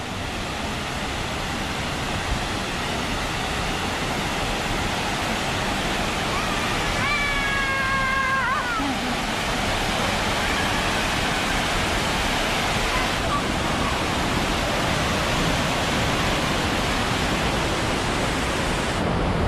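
Honnamma Devi waterfall in the Bababudangiri Hills roars with a loud, steady rush of falling water that stays constant throughout, with a brief high whistling tone partway through.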